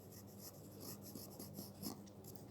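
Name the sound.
writing a number name during a math lesson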